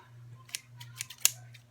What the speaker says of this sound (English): I'm angling it just underneath so I can cut underneath the envelope.